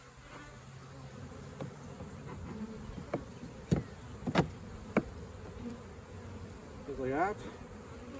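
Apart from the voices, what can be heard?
honey bees of a caught swarm buzzing in horizontal hive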